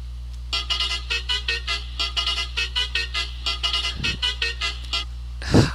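A TNSTC bus horn in Euro Truck Simulator 2 plays a rapid musical tooting pattern, a long run of evenly spaced bright notes over a steady low engine hum, ending with a louder burst.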